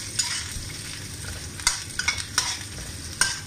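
Garlic sautéing in a pan for Ilocano pinakbet, a soft steady sizzle broken by several sharp stirring scrapes of a utensil, close and fairly quiet.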